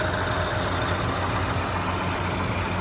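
A 1931 Chevrolet pickup with its six-cylinder engine running at a steady idle, a constant, dense mechanical rumble that holds at an even level throughout, with no voices.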